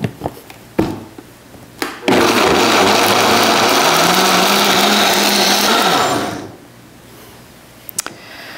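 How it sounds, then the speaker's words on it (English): Kitchen blender blends medicinal herbs with vodka: a few clicks and knocks, then a loud, roaring whir for about four seconds that cuts off and winds down, followed by light handling taps. "And I'm going to blend it."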